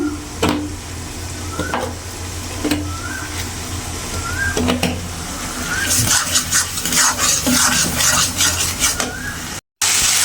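Spice paste stir-fried in a home kitchen pan with salted onions, a soft continuous sizzle under scraping and stirring strokes of a spatula against the pan, growing brighter and busier partway through.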